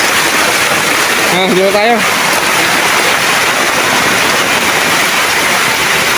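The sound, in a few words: water flowing in a mountain canal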